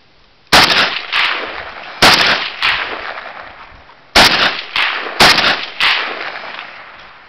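AK-47 rifle shots fired outdoors, without a scope fitted: four loud, sharp cracks at uneven intervals, each with a long echoing tail, no voices between them.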